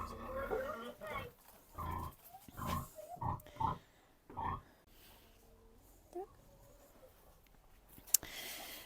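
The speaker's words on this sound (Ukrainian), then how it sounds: "Зараз будемо переганяти свинку." Short grunting calls from a pig being herded on a village farm come in bursts over the first half alongside voices speaking nearby, then fade to quieter rustling and a sharp click.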